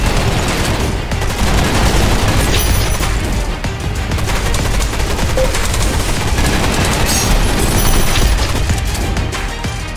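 Gunfire in the VR shooter Gun Raiders, loud dense bursts of rapid automatic shots from an Uzi and other weapons, continuous over ten seconds with no speech.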